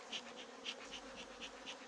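Robber bees buzzing around a hive entrance at an apiary, a steady insect drone with soft swelling pulses as bees dart close to the microphone.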